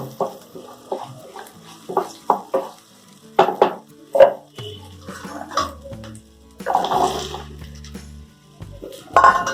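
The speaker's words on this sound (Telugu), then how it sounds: "గుమ్మడికాయ ముక్కలు వేసుకొని" Pumpkin pieces drop into a pan for a pumpkin and jaggery curry, producing a series of close thuds, clatters and scrapes. Irregular knocks of a spoon against metal and shuffling of the pieces follow, fairly loud.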